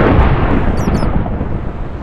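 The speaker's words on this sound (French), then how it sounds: "Tu vois ce que les orages dans Minecraft sont plus fort qu'avant." Thunder from a storm in the video game Minecraft rolls as a loud, dense, low rumble that fills the whole moment and rises briefly to a crackle near the middle.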